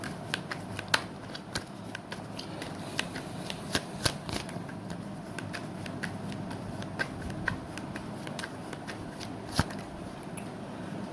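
Tarot cards are shuffled by hand, a steady papery riffle broken by repeated crisp flicks and snaps, close and alone with no talking.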